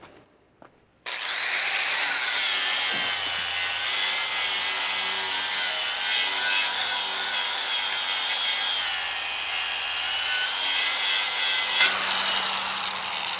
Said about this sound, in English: I'm just going to grind on the side of the welding table and really give her some and lay into it as hard as I can